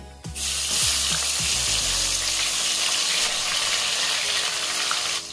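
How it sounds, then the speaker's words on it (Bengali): Potatoes hit hot leftover fish-frying oil with a loud burst of sizzling, after some thuds and clatter at the start, then crackle steadily and fiercely close up without any talk. "এবারে ওই মাছ ভাজা তেলেই আলুগুলো ভেজে নিচ্ছি।"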